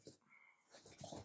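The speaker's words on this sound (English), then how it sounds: "That was the dog." A dog whimpering indoors, brief soft whines and breathy sniffs, faint and close, with no talk over it.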